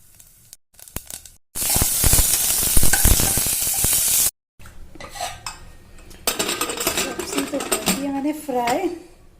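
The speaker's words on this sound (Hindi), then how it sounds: "तो मैंने फ्राई कर दी" Food fries loudly in a pan for a few seconds in a bright, hissing sizzle, broken by short silences, then gives way to clattering kitchen sounds and a voice.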